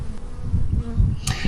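Bees buzzing outdoors in a quiet natural setting, a low wavering hum close by, rising and falling through a short stretch with a faint brighter rustle near the end.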